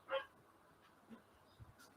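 An upset pet dog lets out one short whimper right at the start, faint and close, followed by near silence with a few soft stirrings.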